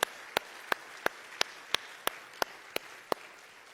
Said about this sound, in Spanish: Dale un fuerte aplauso al Señor porque se lo merece.